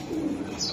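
Racing pigeons coo nearby, a single short low throaty coo rising briefly over a quiet background.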